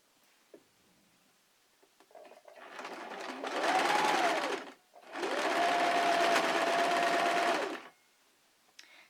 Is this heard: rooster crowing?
no